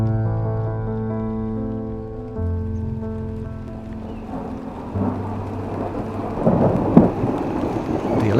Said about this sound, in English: The electric storm circles Pine Mountain, comes back hard on us during the night.